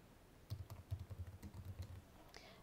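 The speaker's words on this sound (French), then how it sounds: "on tape le titre du livre" Quiet computer keyboard typing of a book title: a quick run of light, irregular key clicks, close and soft, with no talk.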